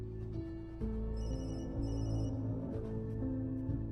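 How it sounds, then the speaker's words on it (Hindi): A telephone rings in short electronic trills over a low hum and background music, fairly faint. "अवधेश बाबू का फोन है सर"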